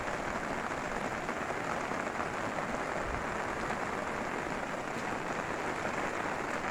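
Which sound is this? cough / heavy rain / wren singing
heavy rain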